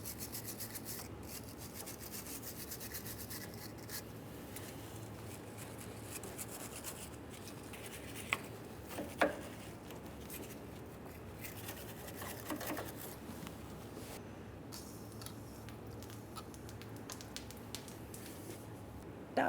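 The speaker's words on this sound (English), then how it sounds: "We're going to clean this with a wire brush and we'll use some penetrant." Wire brush scrubbing rust and debris off the outer tie rod end of a 1994–2001 Dodge Ram 1500, a steady faint rasping with a few sharp clicks.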